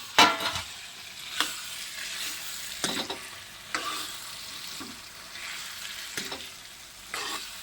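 Potatoes frying in a pan, with a soft continuous sizzle and occasional sharp scraping stir strokes, close by and moderately quiet.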